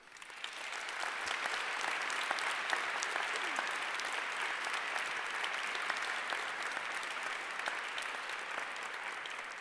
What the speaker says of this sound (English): I'd like you to give them a round of applause, please, if you would.